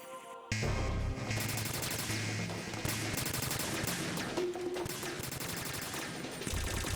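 Sustained automatic gunfire in Metal Gear Solid 2: Sons of Liberty, a loud continuous rattle of rapid shots that starts abruptly and runs almost unbroken for six seconds, with no talking.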